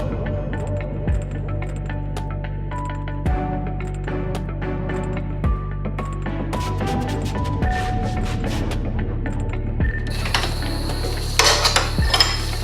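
17mm caliper bolts on a 1991-95 second-generation Toyota MR2 front brake being worked loose with a wrench, giving metallic clicks and clinks over a steady low background hum, ending in a louder burst of ratcheting and clanking.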